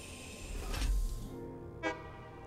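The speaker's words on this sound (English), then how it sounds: "Here we go, train's coming in." An arriving train in the video game Satisfactory, heard as a faint low rumble with a short burst of rolling noise, then a brief tonal horn-like toot near the end, quiet and without speech.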